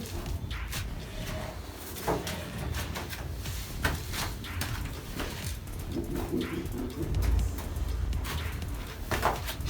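Cooing from breeding pigeons in an underground loft, soft repeated low coos mixed with light shuffling and knocks, fairly quiet and close.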